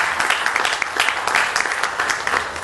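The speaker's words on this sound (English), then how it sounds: "I'm okay with a thunderous applause for that." Dense, steady applause from the audience at a Hoover, Alabama school board meeting, a loud continuous wash of many hands clapping with no voices over it.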